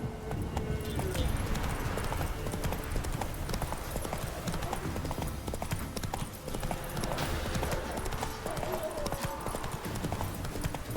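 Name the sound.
horse Roach hooves from The Witcher 3 video game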